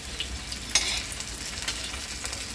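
Surmai kingfish pieces frying on a hot tawa, a soft continuous sizzle with a few light scraping stirs and taps over it.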